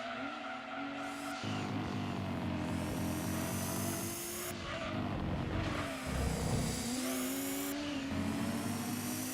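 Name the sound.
race car engines from video game Gran Turismo 2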